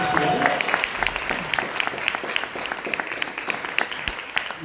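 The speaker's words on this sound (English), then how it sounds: "Let's give Madrid Legal Hackers a round of applause for doing such an amazing job for us today." An audience at the Madrid EMEA Legal Hackers Summit breaks into steady, dense applause that carries on for the whole stretch, many hands clapping at once with a few sharper claps poking out.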